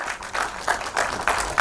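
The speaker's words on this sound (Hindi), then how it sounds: "जोरदार तालियां हो जाए" Audience at a Hindi film release event for a Sant Tukaram biopic starring Subodh Bhave, clapping in uneven bursts at moderate loudness, fairly close.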